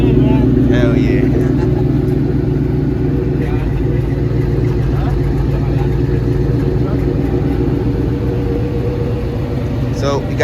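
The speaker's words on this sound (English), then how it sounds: "So we got the truck started." A truck engine idles steadily right after starting, a loud, even low rumble that runs throughout, with people talking faintly over it.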